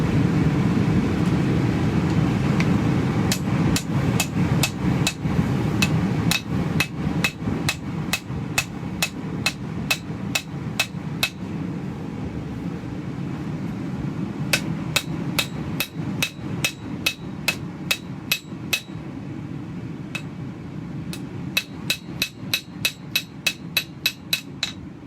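Ball peen hammer striking hot metal while forging tusk tongs, loud ringing blows in quick bursts separated by short pauses, over a steady low roar in the background.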